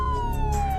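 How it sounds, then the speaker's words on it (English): An ambulance siren wails close and loud, a single steady tone sliding slowly downward with a faint warbling layer above, no voices present. "Ambulances rush to the scene."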